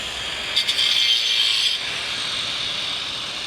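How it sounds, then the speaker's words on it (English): A steady, high-pitched grinding whir from a power tool some distance away, slightly louder early on, then continuing at an even level. "Got a bit of a grinder happening down on the floor in front of us"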